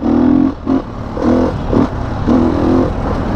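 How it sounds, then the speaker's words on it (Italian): A Beta Enduro RR 2017 motorcycle with a 480 cc four-stroke engine revs on an enduro trail in repeated throttle bursts, loud and close, rising and dropping several times over a steady engine rumble. "Vediamo adesso in un percorso enduristico come se la cava questo motore bestione di"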